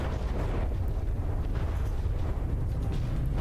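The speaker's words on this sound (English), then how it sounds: "Shooting some shorter Hesh frag explosives." HESH frag shells burst in the naval combat game From the Depths as a continuous heavy rumbling roar of blended explosions, loud and bass-heavy, with no clear gaps between impacts and no voices.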